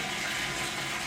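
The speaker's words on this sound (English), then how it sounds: "So the water is draining down in the tank" Water draining from a laboratory column down into a tank through a hand valve, a steady close gushing, trickling rush with no pauses over about a second, no voices.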